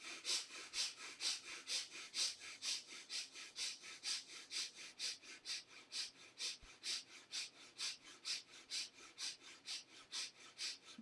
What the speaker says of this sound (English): to demonstrate what kind of a noise you feel of the breath when you do it with the chest breathing